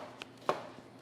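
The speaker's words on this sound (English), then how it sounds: "This is 10 years of chopping onions for other chefs." Two quick knife chops through onion on a cutting board, a light tap followed by a sharper, louder cut, close and alone in a quiet kitchen.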